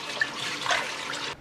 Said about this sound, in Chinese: 剁好的鸭肉用清水冲洗干净